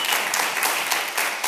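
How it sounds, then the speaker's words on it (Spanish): A television studio audience applauds with dense, continuous clapping at moderate loudness, heard alone for a brief moment. "un aplauso de nuevo"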